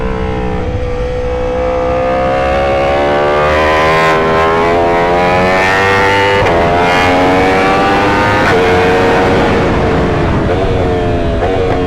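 Stock Yamaha MT-10 motorcycles racing past on a track, a loud continuous engine howl rising and falling in pitch as the bikes rev and shift, close and dominant throughout.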